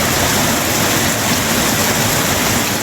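Heavy summer rain pouring down at night, a loud, dense, continuous hiss of falling water with no break and no voices.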